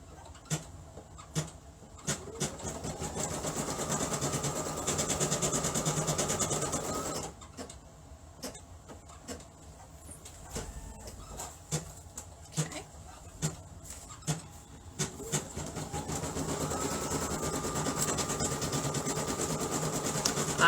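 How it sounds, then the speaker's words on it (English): Embroidery machine stitching an in-the-hoop 3D butterfly mask: a steady, faint mechanical whir with rhythmic needle clicks and repeated rising pitch sweeps as the hoop moves, with voices talking over it at times. "I'm going to let it finish this side before I start trimming pieces, because it's not stitching back over itself."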